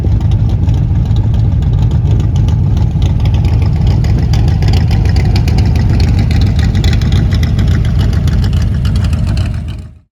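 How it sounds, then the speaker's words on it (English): A 1965 Shelby Cobra V8 with a 9.5:1 compression engine, Dowding Lunetti camshaft and Edelbrock dual-quad intake with two 500 CFM four-barrel carburetors idles through side pipes, a loud, steady, choppy rumble close by that cuts off at the end. "You could hear that nice chop of idle."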